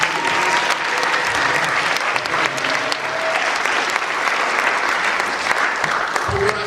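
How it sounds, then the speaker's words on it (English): Audience applause at a 2016 memorial service for Dr. Delbert Blair, a sustained, loud, even wash of many hands clapping that fills the whole stretch without letting up. "Let's give him a round of applause."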